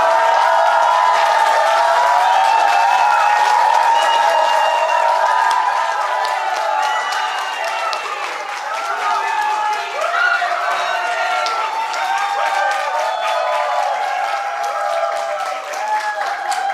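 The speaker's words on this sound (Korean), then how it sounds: "정말 뜨거운 박수를 마주 해주셨으면 좋겠습니다" An audience at a book talk welcomes the author with sustained, loud applause, a dense wash of many hands clapping continuously that dips slightly midway, then swells again, with cheering mixed in.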